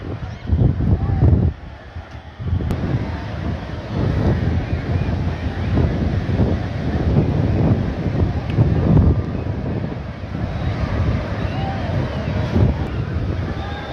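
Sea shore at Digha beach in West Bengal, with a steady roar of wind buffeting the microphone and surf washing in, loud and continuous throughout, with crowd presence in the background.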